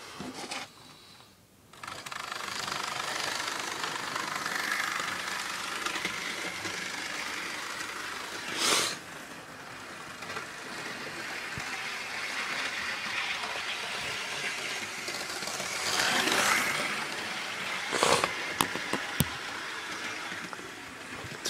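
A Hornby Class 66 model locomotive runs with a steady low whirring motor and rolling wheel hum throughout, swelling briefly a couple of times and ending with a few small clicks.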